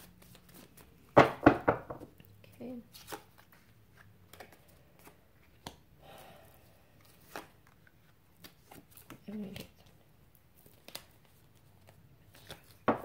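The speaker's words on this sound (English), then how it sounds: "One more shuffle." Tarot cards being shuffled in quick, crisp riffling bursts, loudest near the start and then scattered softer flicks, with a brief spoken word at the end.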